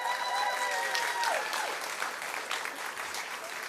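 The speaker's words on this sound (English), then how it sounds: "Let's roll round of applause for Jeff Rader one more time." A crowd at an outdoor demolition ceremony at North DeKalb Mall claps for a local supporter, a dense sustained applause with a few whistles and cheers, moderately loud and even throughout.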